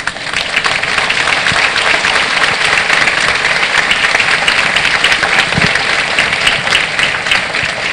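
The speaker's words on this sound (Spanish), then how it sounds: "Yo les pido un fuerte aplauso." An audience at the inauguration of a CAPASITS clinic in Monterrey, Mexico, claps firmly and steadily, a loud dense patter of many hands sustained for several seconds with no talking over it.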